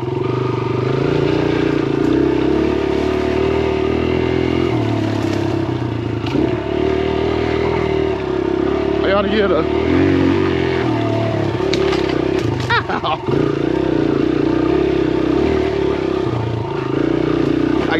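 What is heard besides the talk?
Kawasaki KLX 140R dirt bike engine running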